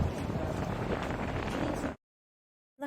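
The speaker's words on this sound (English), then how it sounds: "Out of service due to the weather. So it's quite windy." Strong wind buffets a microphone at an outdoor lookout in Macau on a stormy day, a loud broadband roar that runs steadily for about two seconds and then cuts off.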